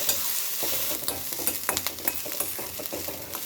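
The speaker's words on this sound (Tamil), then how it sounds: "பூண்டோட கட்டாக வரையும் வெங்காயம் சேர்த்து வந்து வதங்கட்டும்" Onions and garlic sautéing in a pan for a dried anchovy (nethili) thokku, a steady close sizzle broken by irregular scraping stirs, with no talking.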